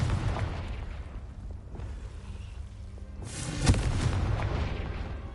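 A Confringo fire spell explodes in Hogwarts Legacy, a muffled boom that swells out of a low rumbling game ambience and then settles back, without any speech.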